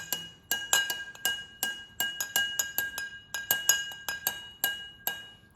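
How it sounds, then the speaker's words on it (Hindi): A spoon clinks steadily against a glass while stirring lemon and condensed milk sharbat, bright rhythmic taps close by, about three per second. "और अब हम इसको अच्छे से चला लेंगे। लेमन को और कंडेंस मिल्क को हमें बहुत अच्छे से मिक्स कर लेना है।"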